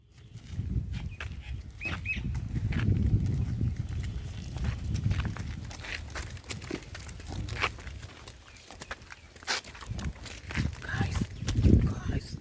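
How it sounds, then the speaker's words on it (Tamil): A herd of buffalo walks past outdoors, hooves thudding and shuffling in an uneven, continuous patter with rustling, while a person talks over it throughout. "இந்த எருமை பாருங்க"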